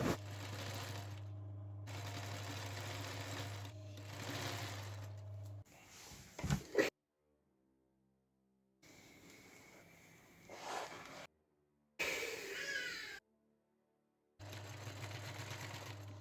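A sewing machine stitches a corset in several long steady runs of rapid, even mechanical whirring, broken by sudden stops, silent gaps and brief handling clatter, close and moderately loud.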